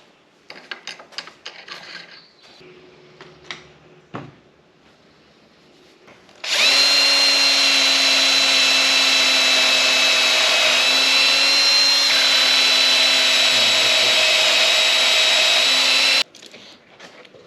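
A small angle drill attachment from a budget clamp kit whines loudly and steadily for about ten seconds of drilling. Scattered clicks and handling noises come before the run, and the drill stops abruptly at the end.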